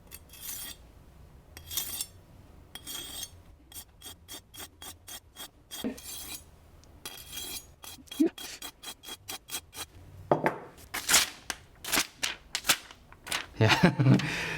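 A knife scrapes over a natural Arkansas whetstone in quick rasping strokes, first in short clustered rubs, then in a faster run of crisp back-and-forth passes, closing with louder, harsher grinding strokes near the end.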